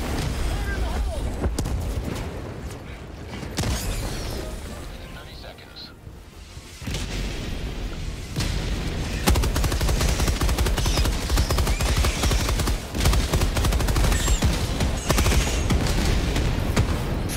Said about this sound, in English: Fucking mortars are great.